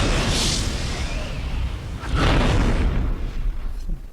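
Cannon fire on a Warhammer: Mark of Chaos battlefield, heavy booming blasts with rumbling tails, one early and a louder one near the middle, followed by lingering battle noise and no talk.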